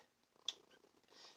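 A cat purrs softly and close by, a faint and brief rumble with no voices.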